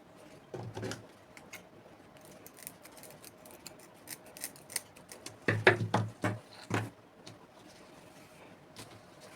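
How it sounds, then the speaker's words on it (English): Scissors snip through material while 22-inch lengths are cut for a simple fascinator, a few quiet scattered snips early and then a louder cluster of close crisp cuts near the end. "So I cut out these 22 inches in 3 places."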